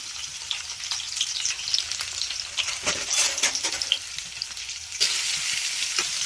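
Bitter gourd pieces frying with masala in oil in a pan, a continuous close crackling sizzle broken by occasional stirring scrapes, with no talking.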